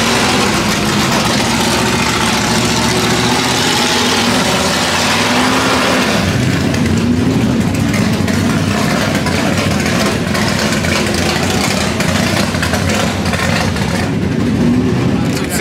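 Race cars running up the hillclimb course at the Goodwood Festival of Speed 2023, with steady loud engine drone and revving passes that swell from about six seconds on, mixed with crowd chatter close by.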